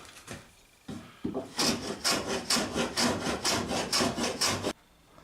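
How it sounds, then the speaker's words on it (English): Wood is worked by hand with a plane during a boat restoration, a run of about a dozen rhythmic, close scraping strokes after a couple of tentative passes, with no talking. "Now I've planed down and been fettling"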